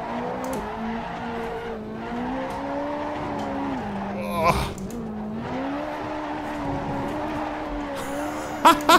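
A Ferrari 458 Italia on semi-slick tyres drifts around the Nordschleife in Assetto Corsa, its engine droning steadily and rising and falling with gear and throttle, with brief tyre squeals near the end.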